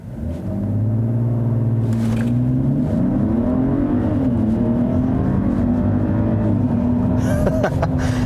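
A 2020 Mercedes-Benz GLE 450 with a straight-six engine launches from a brake-held standstill, the engine note rising loud and close into a steady, climbing roar that holds through the full pull.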